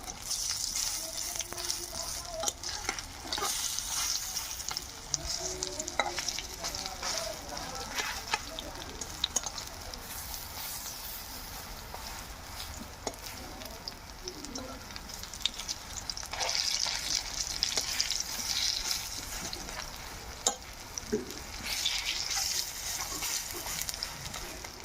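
Pea fritters (koraishutir bora) deep-frying in oil, a continuous close bubbling sizzle with scattered crackles and occasional clicks as they are turned, steady in level for the full length.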